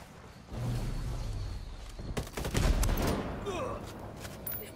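Gunfire in the shooter game Ghost Recon Wildlands: after a low rumble, a cluster of sharp, loud shots and bursts erupts midway, with faint voices in the background.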